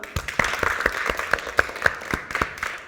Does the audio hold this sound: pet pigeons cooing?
no